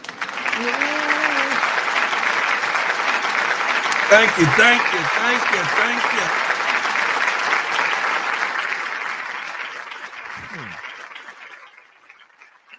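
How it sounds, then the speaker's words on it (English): An audience applauds a new channel member with a steady burst of clapping that tapers off near the end, while a voice speaks over it. "Give her a round of applause."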